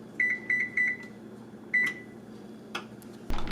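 Oven control panel being set to about 425 degrees: a series of short, high electronic beeps, five in quick succession and then one more, followed by light handling clicks nearby.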